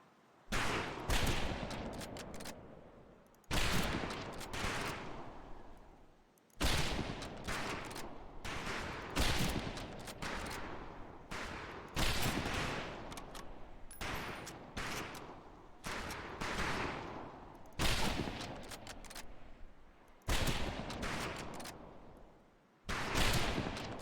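Rifle volleys at a firing range in Medal of Honor: Pacific Assault, heard as about nine loud, sharp bursts of overlapping gunfire spaced a few seconds apart, each decaying before the next, with no voices between them.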